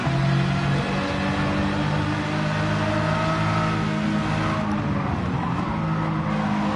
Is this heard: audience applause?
no